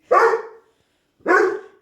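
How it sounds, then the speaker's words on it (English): Two loud, close puppy barks, each about half a second long, separated by a brief silence. "Crazy puppies."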